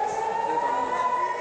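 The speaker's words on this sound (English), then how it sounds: "people slowly taking cover as sirens wailed across the city" Air raid sirens wail across Jerusalem with one steady, sustained tone that holds level throughout, loud and unbroken.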